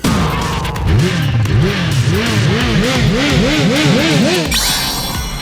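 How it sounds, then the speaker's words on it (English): Cartoonish car engine revving from the anime Panty and Stocking, loud and continuous, with rapid repeated rising-and-falling pitch swoops that overlap into a frantic whine, alone with no talk. "rev up the crazy sexy engine"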